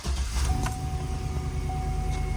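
A 2009 Chevy 2500HD truck engine starting and settling into a low, steady idle rumble with a faint whine above it, close up and without talk.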